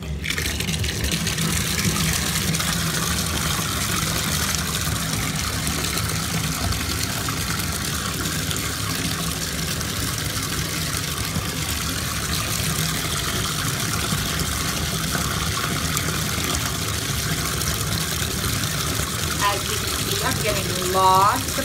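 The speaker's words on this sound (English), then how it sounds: "I am going to go ahead and turn my water back on and get some bubbles" Bathtub water and bubble jets running continuously, a loud steady gush and churning hiss close by that holds throughout.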